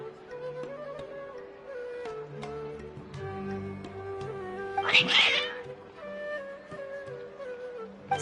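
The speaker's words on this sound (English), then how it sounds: "Your cats seem pretty worked up." Cats meowing and caterwauling, with one loud, drawn-out yowl in the middle standing out over a steady background of music or tones.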